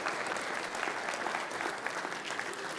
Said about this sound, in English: A massive round of applause to my dear brother here.